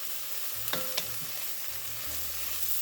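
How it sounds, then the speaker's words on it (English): Garlic, cumin and paprika sizzling in a pan while being stirred: a continuous close sizzle with a few brief scraping strokes of a utensil, steady and moderately loud, with no voices. "give this a stir and continue to cook until the garlic becomes fragrant"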